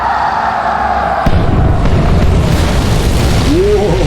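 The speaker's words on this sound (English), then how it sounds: "Whoa, we're getting carpet bombed." Carpet bombing in the video game Fallout: New Vegas erupts as a sudden loud blast, then a sustained heavy rumble of overlapping explosions that continues to the end.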